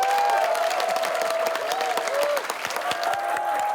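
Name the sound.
warm applause after a presentation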